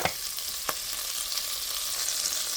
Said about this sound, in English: Now I'm going to go ahead and add in the 2 tablespoons of butter, which won't take but a second to cook down.